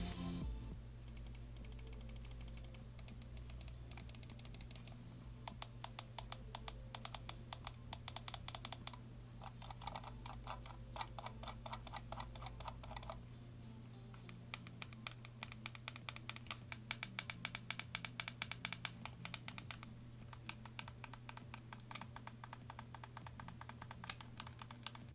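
Cooler Master Sentinel III gaming mouse buttons with Omron switches are clicked over and over. The clicks are quick, light and fairly faint, coming in dense irregular runs with short pauses, and no voice is heard.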